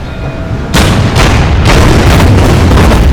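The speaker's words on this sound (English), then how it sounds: "let's see if we can get the destroyer in range to fire on this infantry" A destroyer's naval guns fire on infantry in the Order of Battle: U.S. Marines strategy game, loud booming blasts in quick succession, each burst ringing out into a sustained rumbling roar with no talk.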